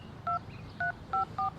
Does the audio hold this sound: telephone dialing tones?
yes